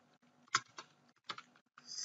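Code being typed on a computer keyboard, heard as a few quiet, irregular key clicks and taps close by with brief pauses and no voices.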